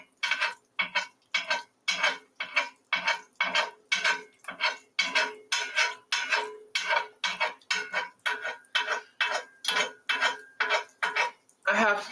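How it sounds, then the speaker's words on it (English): Freshly baked food being scraped off a hot oven tray, repeated rhythmic metal scraping strokes, loud and close, continuing steadily without pause. "Sorry about all the scraping."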